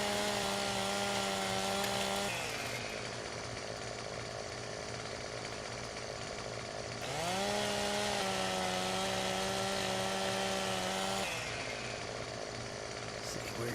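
Chainsaw trimming trees in Farming Simulator 17: a steady, loud engine drone that rises and falls in pitch as it revs between cuts, with a continuous whine throughout.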